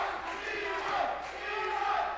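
A fight-night boxing crowd chants the boxer Brito's name in loud, rhythmic unison, a dense roar of many voices filling the arena.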